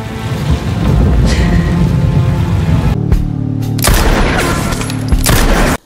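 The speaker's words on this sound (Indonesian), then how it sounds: "maka Brian berlatih menembak" Gunfire at shooting practice in an action film: loud, dense bursts of shots that blur into a continuous crackle, with a brief pause near the middle before heavy firing resumes.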